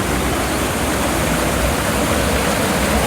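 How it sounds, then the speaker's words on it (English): River water rushes through the head gate into the canal of a century-old hydroelectric plant, a loud, constant, broadband roar with no pauses or voices. "this is the head gate to let water into the canal"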